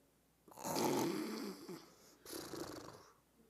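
A person snoring during a church service: two long, rasping snores close by, the first louder and drawn out, the second following after a short pause.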